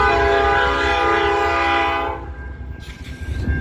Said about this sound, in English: We have a train.